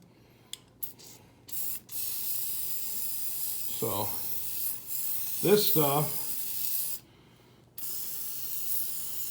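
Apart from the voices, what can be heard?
spraying Kroil penetrating oil from aerosol can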